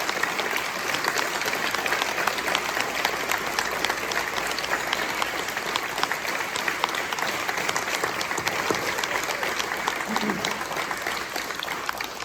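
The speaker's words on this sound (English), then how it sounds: "if we could all give these veterans a round of applause" A crowd at a Veterans Day ceremony applauds the veterans. The clapping is sustained and steady from many hands, moderately distant, and keeps going without a break for the whole stretch.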